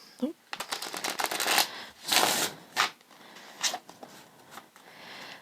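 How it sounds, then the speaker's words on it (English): Rapid papery riffling of tarot cards being shuffled, several quick bursts with short pauses between, close up and fairly loud; faint voice noise underneath. "I typically shuffle around 7 times."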